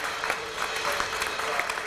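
A studio audience in a Turkish television show gives steady applause for about two seconds as costumed contestants leave, with the clapping dense and fairly close.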